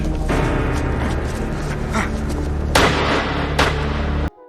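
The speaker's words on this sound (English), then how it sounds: "Based on that gunshot" Gunfire from a played X-Files television episode: a sustained loud, dense booming roar with two sharper bursts standing out near the end before cutting off abruptly.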